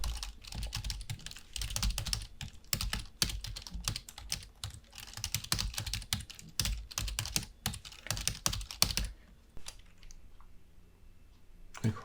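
Quick, close clicking of typing on a computer keyboard during an ITQ Excel exercise, with irregular key bursts for about ten seconds before it trails off into near quiet.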